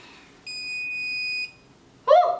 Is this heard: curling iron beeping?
yes